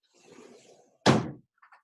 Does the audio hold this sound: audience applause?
no